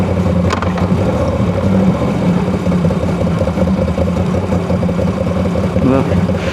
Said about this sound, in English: It's an Italian motorbike. Oh my god. Air cooled.